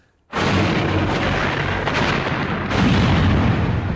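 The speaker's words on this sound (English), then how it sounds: "The town was shelled." Artillery shelling of a besieged town: a sudden, loud, sustained roar of heavy gunfire and blasts that starts abruptly and rumbles on without pause, swelling again near the end.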